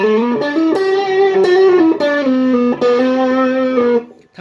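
An electric guitar played through a Shark overdrive boost pedal plays a sustained, singing lead solo with held, bending notes, loud and distorted with no talking, cutting off near the end.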